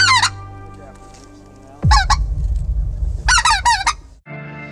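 Geese honking from a waterfowl hunting blind, with goose and speckled-belly calls blown by hunters: loud, close bursts of rapid honks in several clusters over a low rumbling background.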